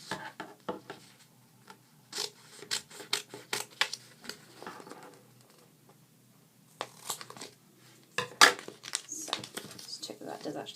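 Scissors snip and crinkle through black sticky-backed plastic while making a toy sonic screwdriver, giving short bursts of crisp cutting and crumpling at close range, broken by quiet gaps.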